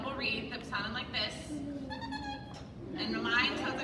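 Double reed oboe playing a short phrase of a few nasal, sustained notes in a concert hall, moderately faint, with bright reedy tones and no talking over it.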